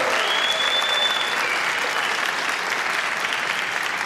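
A studio audience on Johnny Carson's Tonight Show applauds steadily as a show of support for Senator George McGovern, a dense, even wash of clapping that holds for the whole stretch with a faint whistle early on.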